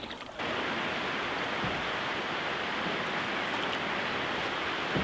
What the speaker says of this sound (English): We're just going past a lovely waterfall trickling down and into the lake.